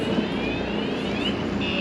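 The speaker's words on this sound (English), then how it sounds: "Of course, I see a helicopter now." Aircraft rotor drone over a busy riverside park along the Hudson River, a steady broadband roar with a faint rising whine, moderately loud and continuous over distant city traffic.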